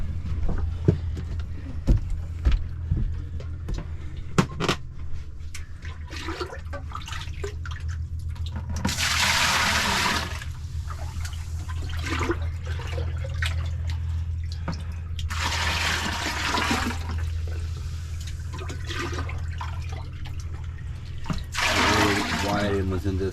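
Seawater gushes and trickles into a boat through an open sink pipe after the tap was removed, with bursts of rushing water over a low engine-like hum and people talking intermittently.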